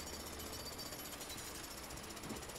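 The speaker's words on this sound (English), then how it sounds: "Jackhammer. Jackhammer, yeah." A jackhammer pounds away in the game A Way Out, a dense, continuous hammering roar that holds steady and loud for the whole stretch with no voices over it.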